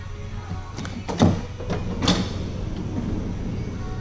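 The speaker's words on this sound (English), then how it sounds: "Simply press the button here, get the door to come back down." A 2016 Honda Odyssey's power sliding door glides shut with a smooth motorised rumble, then two firm latching clunks close by, with no voices over it.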